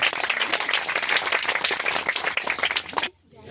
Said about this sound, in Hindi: इसके लिए जोर से ताली बजाएंगे